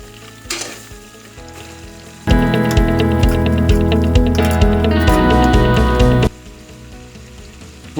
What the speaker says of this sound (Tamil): கொஞ்சம் எண்ணெயில் எல்லாம் பொரிஞ்சோடனே வெங்காயம், பச்சை மிளகாய் போடணும்